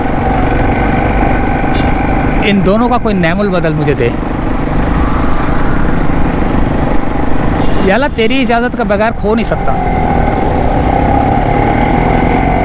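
A motorcycle engine runs with a steady, rough hum throughout while someone speaks over it in two bursts.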